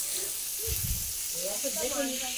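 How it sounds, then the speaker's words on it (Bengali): Fish being fried a second time in hot oil, giving a steady, close sizzle and hiss that runs the whole way through, with a faint voice underneath. "মাছগুলো আমার একবার ভাজা হয়ে গেছে, তো আরও একবার ভাজছি"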